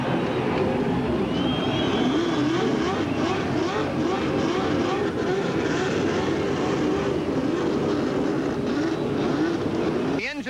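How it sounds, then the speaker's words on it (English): A field of 1989 CART race cars fire up on the Long Beach street circuit, a dense, unbroken engine roar that holds steady throughout and cuts off sharply at the end. "Engines are started, and we're ready for the run through the streets."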